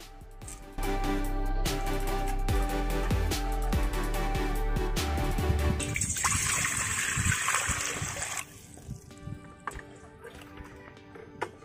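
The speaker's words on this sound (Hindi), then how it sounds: "पतीला चढ़ा देते हैं और इसमें पानी गर्म करने के लिए देंगे" Water pours and splashes into a metal cooking pot for a couple of seconds, to be heated for chowmein noodles, amid clattering kitchen sounds and faint background noise.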